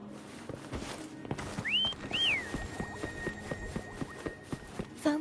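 Two short rising whistled notes ring out in a video game as a call to a companion, set over a steady run of footsteps or hoofbeats and soft ambient sound, with a faint voice-like tone at the end.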